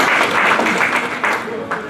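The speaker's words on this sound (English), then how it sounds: "So please, another round of applause." Audience applause after a speaker introduction at a Hindu educational conference session; a short, loud burst of dense clapping with some voices mixed in.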